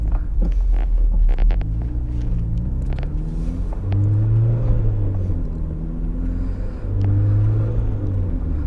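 A turbocharged Mazda Miata making around 300 wheel horsepower drones steadily from inside the cabin while driving, a low throbbing engine note that swells and rises in pitch at a couple of points as the revs climb.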